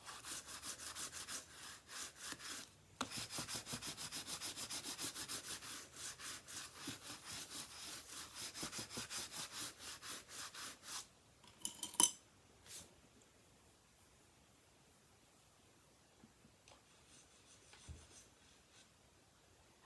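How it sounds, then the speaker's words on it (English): Rhythmic rubbing strokes burnishing a handmade portfolio surface, close and fairly loud for about eleven seconds, followed by a few scattered scrapes and handling sounds before falling quiet. "now I can flip that over and burnish that"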